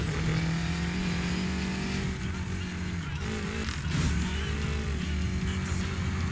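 An offroad car in Need for Speed Payback accelerates hard, its engine roaring steadily with gear-shift dips and rising revs, a dense mechanical drone throughout with no speech.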